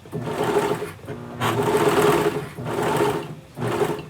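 A home sewing machine running in bursts of rapid, whirring stitching, four close, loud runs separated by short pauses, with no talking.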